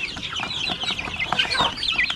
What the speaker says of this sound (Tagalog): Yung aming mga manok na Jersey Giant oh